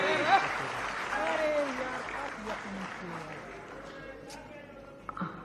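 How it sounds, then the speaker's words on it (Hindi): Loud applause from an audience at a Jharkhand government event marking an MOU exchange with Smile Foundation, dense clapping that holds steady and slowly fades, with a voice talking faintly over it. "जोरदार तालियां होनी चाहिए"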